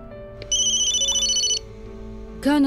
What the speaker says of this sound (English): Colonel Ostankovich is on the phone